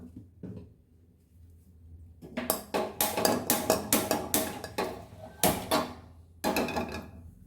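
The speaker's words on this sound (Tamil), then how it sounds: "கடாயை அடுப்பில் வச்சுக்கலாம்" A metal kadai (wok) set down on a stove while making hotel-style potato masala, with a quick run of sharp clanks and knocks of metal on metal, close and fairly loud.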